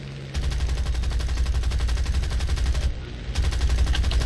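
Dense, continuous thumping from a Hurricane fighter's 40 mm cannons in War Thunder, a loud rhythmic pounding over engine drone that pauses briefly before resuming.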